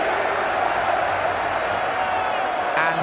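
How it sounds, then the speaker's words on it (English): A packed football stadium crowd roars and chants through a Spain versus England friendly, a dense, steady wall of voices, with a commentator talking over it. "there are some chants that we should not be hearing, or we wouldn't want to hear"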